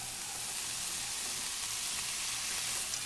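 Asparagus for a lasagna sizzles steadily in a hot pan, a quiet and even frying hiss with no voices over it.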